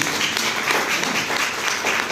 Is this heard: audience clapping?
yes